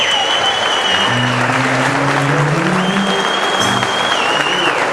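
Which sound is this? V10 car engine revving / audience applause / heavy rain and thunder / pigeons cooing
audience applause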